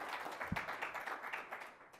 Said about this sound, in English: So let's give them a round of applause to start off with, get them welcome and excited.